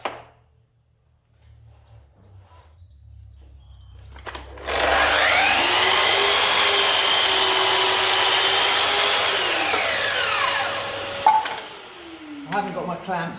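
A Festool Kapex miter saw spins up and cuts a mitre through wood, its loud whining buzz holding steady for several seconds before winding down, with clicks and handling noises on either side.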